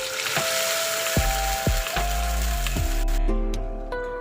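Pavta beans frying in an iron kadai, with steady close sizzling and crackling broken by a few sharp clinks of a utensil against the pan, no voices.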